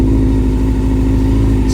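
A Honda CB400 Super Four idles on a cold engine, a loud, steady, close-up burble with a low pulsing rhythm across the short stretch.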